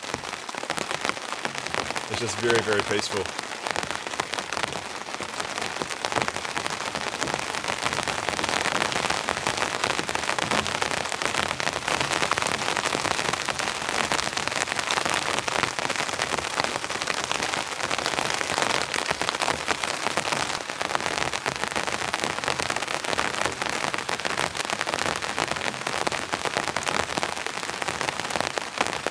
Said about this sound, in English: And with that sound of the rain,